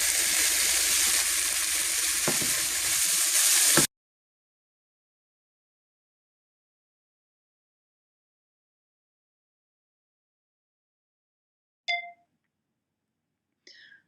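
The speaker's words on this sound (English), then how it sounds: "you want to dump your onions and your garlic in the pan and just get it going" Steady broadband sizzling of onions and garlic frying in a hot pan for a few seconds, then silence broken by two brief metallic clinks.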